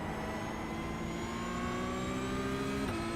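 Several Porsche Cup race cars in the iRacing sim, engines revving together at a race start, a steady loud engine drone with rising pitch that holds throughout.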